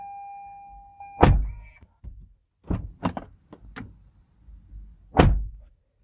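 A 2019 Toyota RAV4 Adventure car door shuts with a loud, solid thunk, followed by several lighter clicks and knocks, including what may be a faint rattle. A second heavy thud comes near the end.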